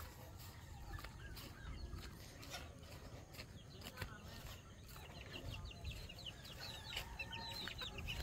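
Three young chicks under treatment for coryza and mycoplasma peep and cluck faintly in a noisy pen, scattered soft calls over steady background hiss.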